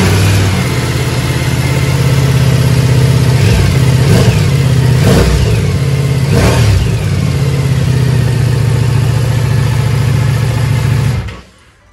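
Ducati Multistrada V4S with an Akrapovic exhaust and the stock catalytic converter still fitted, idling loudly up close, then blipped through three sharp revs before cutting off near the end.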